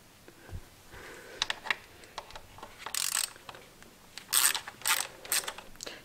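Ratcheting clicks while screws are loosened on a BMW valve cover: quick bursts of small metallic pawl clicks in short, uneven runs, close up and fairly quiet, with no talk.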